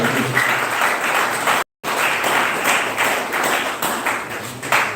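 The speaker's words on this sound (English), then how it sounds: "I beg we clap our lecturer." An audience at a civil society meeting applauds a lecturer, with dense sustained clapping filling the room for several seconds and a brief gap partway through.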